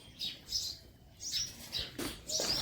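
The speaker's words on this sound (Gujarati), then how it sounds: "જો સવારમાં ઉઠીને જોઈ લે ચકલીઓ આવી" Sparrows chirp in the morning, with a handful of short, bright tweets in quick bursts, fairly faint against a quiet background.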